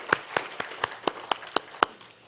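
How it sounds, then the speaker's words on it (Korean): A handful of slow, distinct hand claps in a church congregation during Sunday worship, about eight separate claps in an uneven rhythm, close and fairly soft, with no voices. "우리 하나님 앞에 감사의 박수 드리겠습니다"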